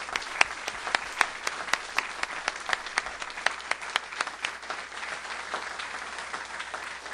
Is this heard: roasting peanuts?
no